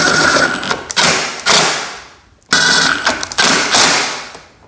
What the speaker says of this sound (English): go ahead and tighten down the 2 bolts that hold the top of the